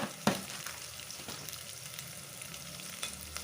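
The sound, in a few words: onions frying with rock salt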